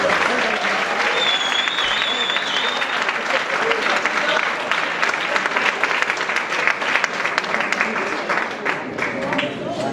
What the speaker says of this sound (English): Please give yourself another round of applause.